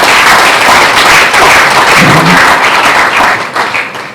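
Loud, dense applause from a large audience at a student leaders' swearing-in ceremony at a transport university, sustained clapping that tapers off toward the end.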